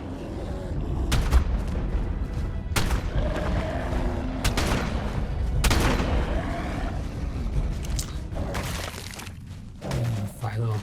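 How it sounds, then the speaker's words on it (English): Gunfire in the video game Ark Survival Ascended, in a cave on the Ragnarok map, sharp loud shots fired in several bursts with echoing booms, while a person talks over it. "we like to shoot around here"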